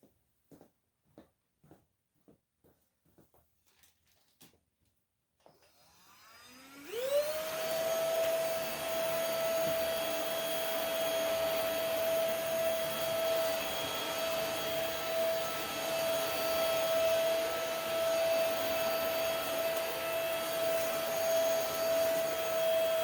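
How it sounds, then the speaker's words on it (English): A PRETTYCARE W100 vacuum cleaner picks up sand, preceded by a few soft clicks and taps before the motor spins up into a loud, steady whine with a strong tonal hum that holds to the end. "the old PRETTYCARE can still pick up the sand"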